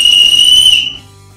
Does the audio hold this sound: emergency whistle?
yes